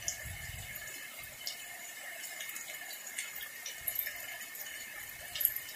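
Rainwater leaking through a house roof and dripping into a bucket set beneath it, with faint scattered drips and trickling water over a quiet background.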